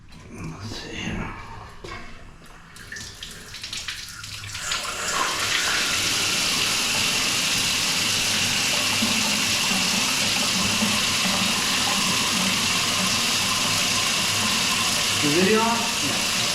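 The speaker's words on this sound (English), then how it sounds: "I'm gonna try running a little water down there." Water pours steadily into a drain during a condo turnover cleanup, a continuous rushing wash that starts after a few seconds of quieter handling noise and runs loudly to the end.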